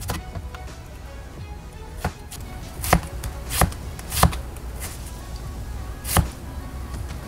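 An imarku cleaver knife chops through an onion on a cutting board, several sharp knocks spaced irregularly, close and clear, with no speech.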